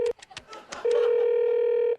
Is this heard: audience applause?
no